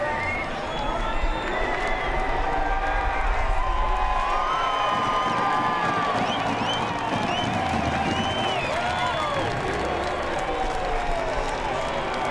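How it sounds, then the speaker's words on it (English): A large crowd cheers and applauds continuously for the NASCAR Cup Series champion after the championship race, with whistles and scattered shouts in a steady roar and a voice talking underneath. "listen to the crowd"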